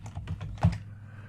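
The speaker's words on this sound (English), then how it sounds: "I'm going to type face frame." Quick keystrokes on a computer keyboard, about half a dozen soft clicks in a short burst with one louder tap, heard up close with no talking.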